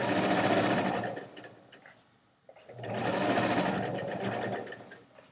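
Sewing machine stitching a strap in two steady, loud bursts of rapid mechanical whirring, separated by a short pause, close up with no voices.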